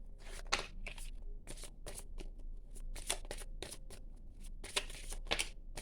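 Tarot cards are shuffled and drawn nearby in soft, quick flurries of papery riffling and flicks, faint and uneven, with a brief pause partway through.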